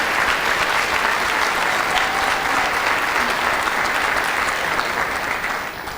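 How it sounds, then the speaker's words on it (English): A full round of sustained audience applause at a high school senior honors diploma ceremony, thick and continuous throughout, easing slightly at the very end. "Let's give a full round of applause."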